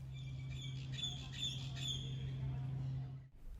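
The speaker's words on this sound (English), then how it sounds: "just the sound of birds, but they're not bluebirds" Faint high chirps and calls of birds flicker over a steady low hum near St Marys Metro Station construction in Sydney, fairly distant, ending in a sudden cut.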